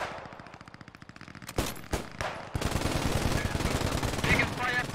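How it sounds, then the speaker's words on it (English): Heavy machine gun fire in the World War II shooter Post Scriptum, a rapid rattling burst that breaks off, then a few loud single shots and a denser volley of sustained firing. "That was heavy machine gun fire from the north."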